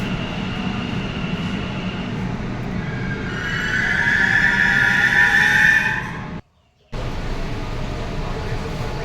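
A Kolkata metro train on the Blue Line runs steadily with a continuous low rumble and a rising wheel squeal in the middle, heard from inside the carriage, with a brief dropout near the end.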